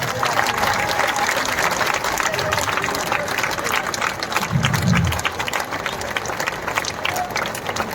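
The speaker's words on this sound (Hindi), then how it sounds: "ताली रुकनी नहीं चाहिए, कम से कम 2 मिनट ताली बजनी चाहिए।" A large crowd claps loudly and continuously in sustained applause at a political party launch event in India, with a dense, steady roar of hands and some voices mixed in.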